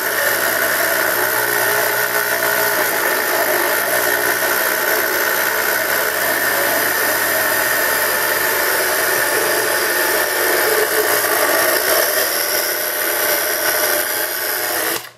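Electric hand mixer beaters creaming chocolate chiffon cake batter, a steady loud motor whir with no breaks, running alone throughout.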